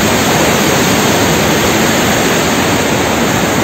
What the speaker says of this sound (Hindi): और ये देखिए पानी का फ्लो